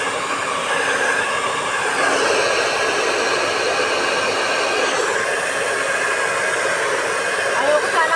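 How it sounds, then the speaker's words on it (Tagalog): A hair dryer blows on someone's hair, a steady close whooshing roar that runs without a break throughout. "Kasi yung buhok ko mas maganda pag nag-blower siya."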